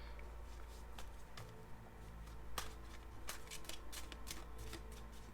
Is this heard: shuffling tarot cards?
yes